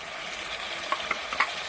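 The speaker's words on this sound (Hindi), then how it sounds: "लहसुन अदरक का पेस्ट हमने अच्छे से भून लिया है। अब हम इसमें डाल देंगे टमाटर।" Chopped tomatoes go into garlic and ginger paste frying in a pan, giving a steady, close sizzle with a few brief stirring scrapes and no voices.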